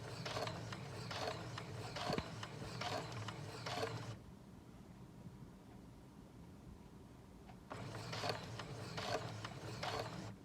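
A sewing machine stitching at its longest stitch length, two bursts of rapid rhythmic mechanical clatter separated by a quieter pause, close and fairly soft.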